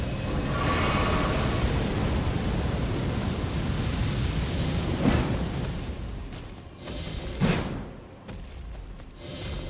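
In Elden Ring, a dragon breathes fire: a loud, roaring rush of flame with a couple of heavy whooshing thumps near the end as the blast tapers off.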